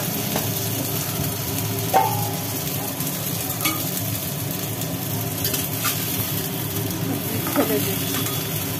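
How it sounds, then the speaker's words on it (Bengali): Pieces of pointed gourd fry in hot oil, a constant hissing sizzle with a few metallic clinks and scrapes from the spatula now and then. "কেটে রাখা পটলগুলো এর মধ্যে দিয়ে এবার ভাজি হবে।"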